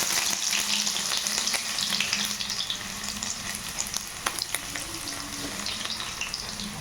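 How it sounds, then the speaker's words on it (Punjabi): Garlic and ginger fry in hot oil for a Punjabi-style curry of black chickpeas, a steady close hiss and crackle with occasional stirring clinks throughout, no voices. "ਤੇਲ ਗਰਮ ਹੋ ਚੁੱਕਾ ਸਾਰੇ ਤੋਂ ਪਹਿਲਾਂ ਪਾਵਾਂਗੇ ਆਪਾਂ ਲਸਣ"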